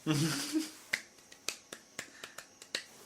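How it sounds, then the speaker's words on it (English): Crowd at a Ring of Honor wrestling event clapping in unison: sharp, evenly spaced claps in a steady rhythm, heard somewhat distantly after a brief moment of talk at the start. "that's a lot of clapping"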